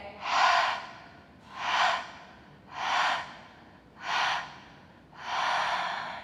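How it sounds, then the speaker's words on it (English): Five deep, slow inhales during a prenatal Pilates core session on a birth ball, each a breathy rush of air spaced about a second apart, close and clear with no talk over them. "I'll breathe with you, big inhale"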